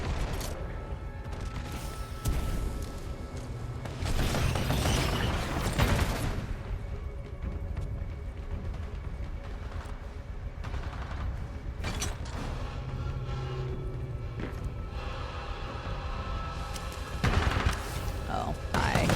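Enemy gunfire in Titanfall 2 rattles in bursts of rapid shots over mechanical clanks, with a player speaking intermittently between volleys.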